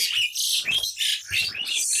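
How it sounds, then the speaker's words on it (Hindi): Several bright chirps and tweets from a small bird close to the microphone, coming in quick bursts with brief gaps between them. "थोड़ा सा डिस्टरबेंस है, चिड़िया आ गई है"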